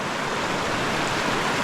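A small freestone stream rushes steadily nearby, a loud, even hiss of running water over stones with no breaks and no voices.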